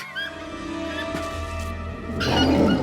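A dog whimpering inside the video game Minecraft, a thin whining game sound heard alone at moderate loudness with no voices over it.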